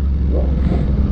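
A Yamaha R1 motorcycle idles steadily at close range, a low, continuous engine rumble with slight fluctuations and no breaks throughout.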